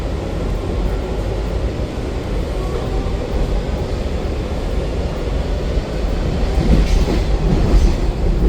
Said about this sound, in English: I had to wait 9 minutes for this train to depart Vienna.